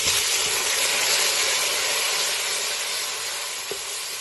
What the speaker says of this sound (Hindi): अब इसमें हम डाल देंगे टमाटर जो मैंने तैयार किए।